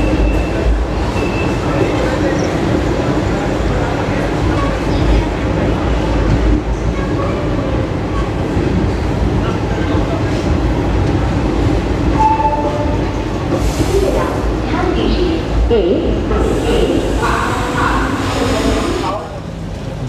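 A Garib Rath Express train stands halted at a station, a continuous loud rumble and hiss of the train and platform bustle throughout, with people talking in the background.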